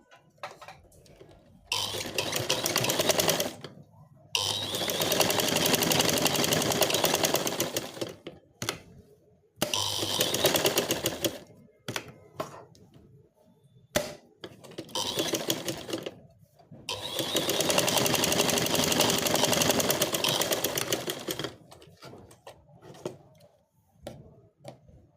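A sewing machine stitching down the waistband of joggers, running in long steady bursts separated by quiet pauses and brief handling sounds.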